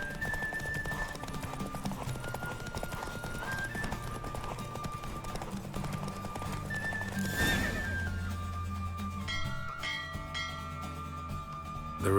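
Roach, Geralt's horse in the video game The Witcher 3, gallops in a race with steady, rapid clip-clop hoofbeats and a brief whinny, set over continuous game music.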